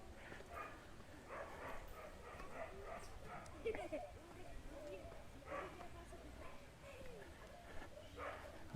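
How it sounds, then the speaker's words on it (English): Faint dogs barking and yipping in the distance, scattered through a quiet outdoor scene in a residential neighborhood in Nicaragua while a person speaks softly nearby. "A lot of barking here."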